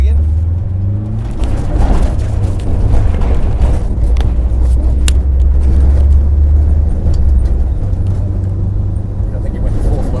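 Subaru WRX STI rally car accelerating up into third gear, a loud, steady engine roar with low rumbling throughout and a brief dip as the gear changes, heard from inside the car with voices talking over it.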